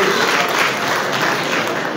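Dense, steady crowd applause fills a ceremony hall honoring youth empowerment recipients as a name is announced, a continuous wash of many hands clapping at even loudness throughout.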